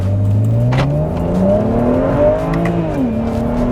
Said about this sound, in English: Man, you really feel when the second turbo kicks in.